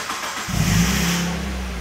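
A Mazda MX-5 engine catches and revs as the car pulls away, a low steady drone rising to a peak then settling, close and loud with no talk.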